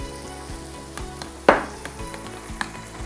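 A whisk beats a yogurt mixture in a bowl, giving a regular run of light scraping strokes about twice a second, with one sharp, louder clack near the middle.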